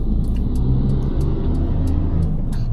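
Steady low engine rumble and road noise fill a car cabin from inside, constant and fairly loud, with faint ticking clicks scattered over the top and no talk.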